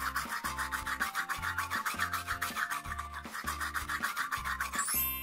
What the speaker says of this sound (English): Let's go ahead and brush Marshall's teeth.